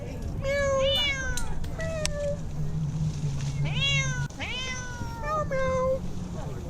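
A cat meows repeatedly and insistently, several rising and falling cries close by, with a person talking softly in between.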